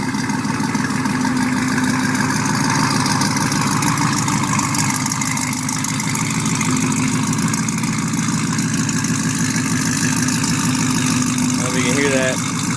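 Cammed Mustang GT V8 with Pypes bomb mufflers, off-road X-pipe exhaust and headers idling loudly nearby, a choppy, lumpy burble held steady throughout, with a voice speaking over it.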